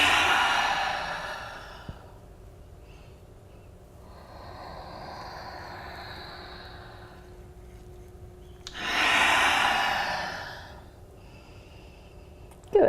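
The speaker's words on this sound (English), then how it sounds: "Really completely filling on your inhale and empty on the exhale." Deep, slow breaths during a yoga breathing exercise in a warming class: a long airy exhale, a softer drawn-in inhale, then another strong exhale, close and unaccompanied by speech.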